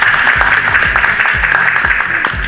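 Indoor audience at a literary café talk applauds in a broad, continuous wash of many hands, steady and fairly loud throughout with no voices on top.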